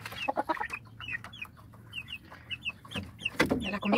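Hens cluck and chirp close by at feeding time as feed is fetched, a busy run of short, soft calls with a few louder squawks near the end and no talking.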